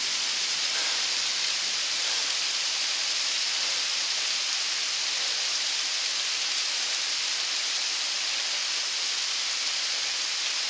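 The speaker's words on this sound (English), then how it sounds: "It's raining pretty hard." Heavy rain pours down in a wooded wilderness during a thunderstorm, a dense, unbroken roaring hiss that stays loud and even throughout with no voices.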